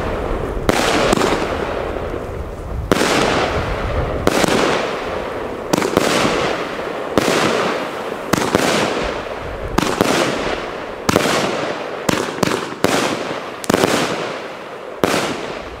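Argento 'Capri' 30 mm fireworks battery firing its 13 shots, a series of sharp loud bursts with crackling tails at irregular intervals, closer together toward the end.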